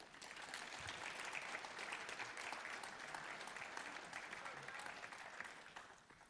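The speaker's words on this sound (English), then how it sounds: "you can clap for them" Sustained applause from an audience at a high school fall sports banquet in Ste. Genevieve, Missouri, honoring the players; steady, dense clapping that holds for several seconds before easing slightly at the end.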